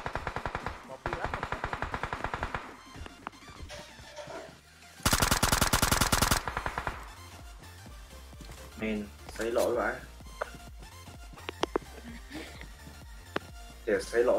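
M249 light machine gun fire in PUBG Mobile, heard as bursts of rapid automatic shots with one sustained loud burst, mixed with other game sounds and players talking over it.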